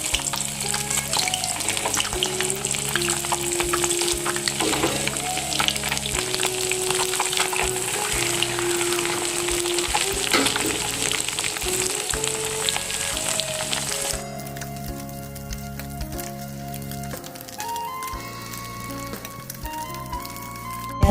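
Small puthi fish fry in hot oil, giving a steady, close crackling sizzle that runs for the whole stretch, with low background tones beneath it, and no one speaking.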